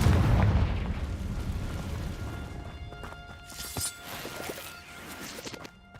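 A Confringo blasting spell exploding in the video game Hogwarts Legacy, opening with a heavy booming blast whose rumble slowly decays, followed by scattered crackles and smaller bursts of game effects.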